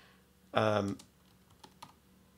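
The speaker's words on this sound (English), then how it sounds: "Chris Jones, you see how I just typed in his name" A short burst of quick keyboard typing, close and clear, followed by a few faint scattered clicks in a quiet room.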